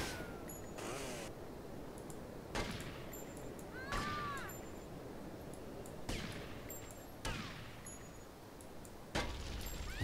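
Explosions in GTA Vice City, a series of about six sudden booming blasts spread irregularly over several seconds, each rising sharply from a steady low game ambience.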